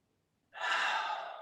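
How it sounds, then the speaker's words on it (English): A deep, loud inhalation during a breathing exercise for athletes, a single close breathy draw that starts abruptly after a brief silence and holds steadily to the end. "So I inhale, and then I still try to inhale as much as I can."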